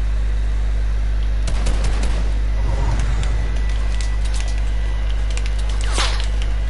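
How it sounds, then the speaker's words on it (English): Gunfire during an arena duos video game match, with a few sharp cracks and scattered impacts over a loud constant engine-like drone, the shots sounding distant amid the background noise. "Bro, I'm getting sniped at"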